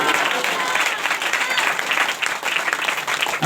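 An audience at a Hindi religious sermon claps together in a dense, continuous patter of many hands, loud and close, with no voices over it.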